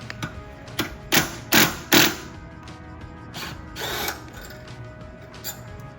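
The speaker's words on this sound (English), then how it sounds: "there is 1 bolt in the back that is holding the rear axle here. So we're just gonna undo this one as well." A power tool undoes the rear axle bolt on a Rosso eQuad P kids' electric ATV, heard as several short, loud whirring bursts close by, followed by quieter mechanical rattles.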